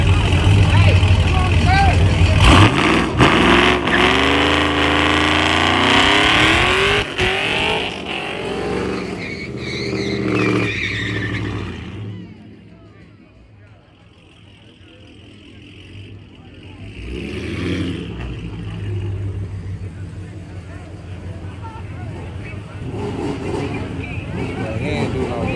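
A drag car revs loudly and spins its tires in a burnout at a drag strip, a roaring engine with squealing, shifting tones that fades to a distant rumble, while spectators talk nearby.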